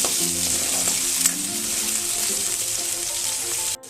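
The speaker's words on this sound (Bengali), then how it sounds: "এবার আলুগুলো সব ভেজে আমি তুলে নেব।" Small potatoes fry in hot oil in a pan, a steady dense sizzle that continues alone and close, with faint stirring.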